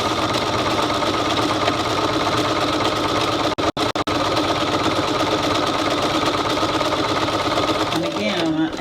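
Sewing machine stitching fabric for an oven mitt, a steady close mechanical whir that runs continuously, briefly cut twice near the middle, with a voice talking over it.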